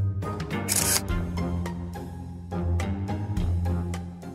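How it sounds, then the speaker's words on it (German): A toy camera clicks and whirs, with a bright shutter-like burst near the start followed by a series of mechanical clicks and rattles. "Komm, wir machen ein Foto von dir."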